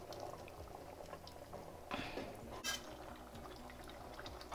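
A sardine curry made with pepper and gooseberry bubbles uncovered in a pot, giving a steady close simmering and bubbling with a brief louder burst of spitting partway through.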